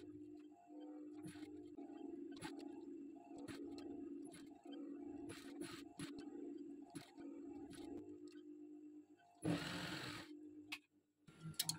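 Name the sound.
sewing machine stitching a boat-neck blouse side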